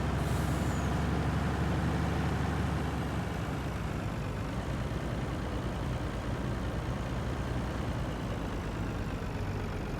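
A farm vehicle in Farming Simulator 19 rolling along, a steady engine drone with a brief hiss of air release at the start, continuous and fairly loud throughout, with no talking.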